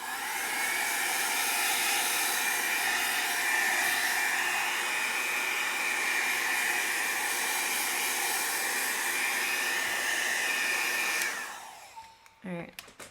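A steady rushing stream of blown air passes over an alcohol ink painting and continues loud and unbroken for several seconds, then cuts off abruptly and gives way to a few soft scrapes.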